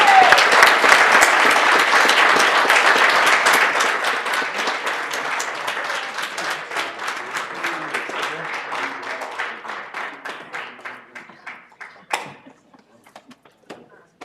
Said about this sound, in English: let's give all of our fellows an amazing round of applause